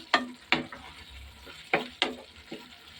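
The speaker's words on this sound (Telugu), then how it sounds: "ఒకసారి అయితే కర్రీని కలపెడదాం" A spoon or spatula stirs tomato egg curry in a pan, giving about six sharp scraping clanks at a loose rhythm over a faint simmer.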